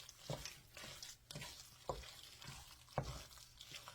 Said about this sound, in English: I'm going to dump some of my milk in here, half of it, my heavy cream, and start mixing this